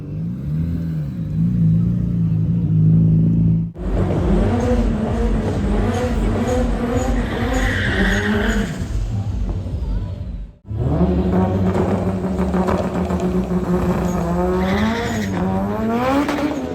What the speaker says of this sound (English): Civic is torque steering all the way up the top there.